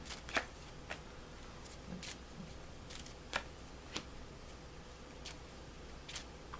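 Tarot cards dealt and laid out on a table, giving soft, quiet card snaps and slides at irregular intervals, close by, with no talk.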